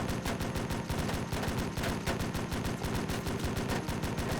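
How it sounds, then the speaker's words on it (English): A Humvee turret gun fires continuously in the video game Blackhawk Rescue Mission 5, a dense, unbroken stream of rapid automatic shots at moderate level with no speech. "fall back to the Humvee and continue to unload into the enemy vehicles until they explode."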